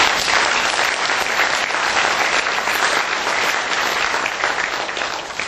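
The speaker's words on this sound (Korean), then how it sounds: "하나님께 영광의 박수로 축하해 주시면" A large audience claps steadily and warmly in a hall at a Christian newspaper and broadcaster's founding ceremony, a dense continuous applause with no voices on top.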